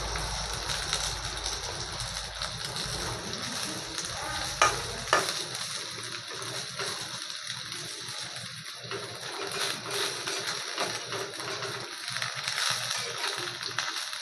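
Malabar spinach leaf fritters sizzle and crackle steadily in hot oil over a medium flame as each one is turned, with soft scraping and spatter bursts under a continuous frying hiss.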